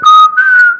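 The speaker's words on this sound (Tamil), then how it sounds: "நல்லா சத்தமாக ஒரு தியேட்டரில் விசில் அடிக்கணும்னா இந்த முறையை பயன்படுத்தலாம்" A person whistles loudly in a close, piercing style suited to a theatre crowd: two sustained, clear notes, the second slightly higher, with a brief dip between them and no other sound.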